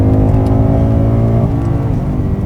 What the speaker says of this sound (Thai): กดคันเร่งทุกครั้งนี่